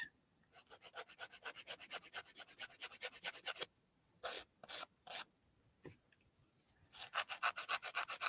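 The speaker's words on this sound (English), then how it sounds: "I'm going to file it just off the free edge a little bit." A 180 grit nail file rasps across the free edge of a fingernail in quick, even back-and-forth strokes, close and crisp, with a few short pauses and isolated strokes before another rapid run of filing.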